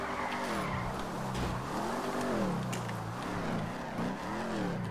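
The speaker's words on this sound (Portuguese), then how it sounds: "vou fazer drift de qualquer lado" A Mustang GT drifting in FiveM, tires squealing in long wavering pitched sweeps over a loud continuous engine roar, close and sustained.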